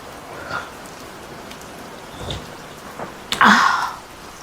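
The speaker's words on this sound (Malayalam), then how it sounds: "പുറത്ത് മഴ, അകത്ത് ഇങ്ങനത്തെ ഭക്ഷണം" Soft, steady patter of rain outside heard from indoors in Kerala, with scattered drops, broken by one louder knock or thud near the end.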